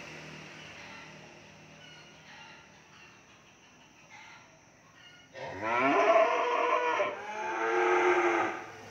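Cattle moo at a livestock market, deep drawn-out bellows that swell loud and close after a stretch of quieter low background noise and distant animal sounds.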